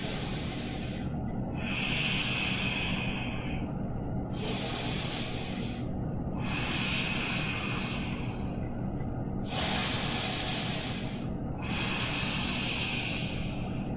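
Deep breaths during a yoga session alternate as long airy inhales and exhales, each lasting a couple of seconds, close and clear over a low steady background.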